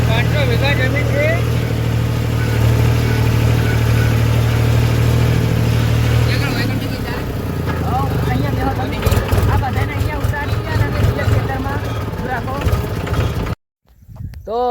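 A tractor engine drones loudly and steadily while ploughing a field, then the tone shifts and becomes rougher, with voices talking over it before a brief cut near the end.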